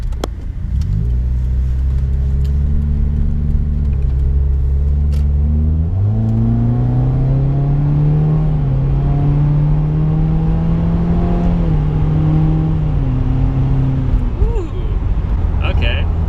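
A 2016 Subaru WRX with a Nameless 4-inch muffler delete accelerating, heard from inside the car: a loud, droning exhaust note that climbs through the revs, drops briefly at a shift, climbs again, then eases off.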